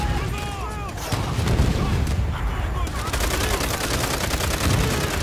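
Heavy World War II battle gunfire in World at War, with sustained machine-gun bursts and scattered rifle shots layered over booming artillery, dense and loud throughout.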